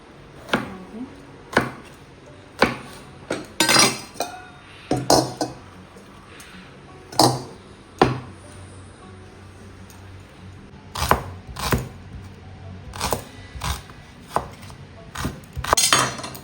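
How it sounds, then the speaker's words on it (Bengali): Home-grown vegetables are chopped into big pieces with a knife on a board, in irregular, sharp, close chops with brief pauses and a few faint clinks of utensils. "শুধু একটু বড় বড় পিস পিস করবো তো"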